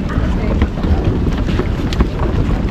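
A boat rumbles on open water while island hopping off Boracay, Philippines, with wind buffeting the microphone and a steady low churning throughout.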